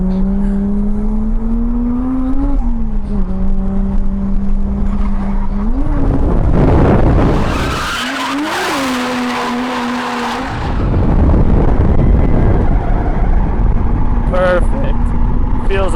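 A drift car lapping Ebisu Circuit in Japan, its engine held at a loud steady high-revving drone with pitch shifts and a roaring surge midway, tires scrubbing as it slides close along the wall, with no talk over it.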